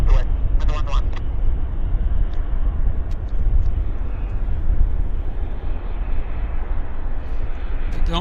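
An airplane taking off at Vancouver Airport, a loud broad rumbling roar of jet engines that holds steady throughout, with a few sharp brief clicks over it.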